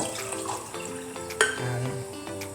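Water poured into a small pan to make ginger tea, a steady close pour in a kitchen with a light clink of the pan partway through.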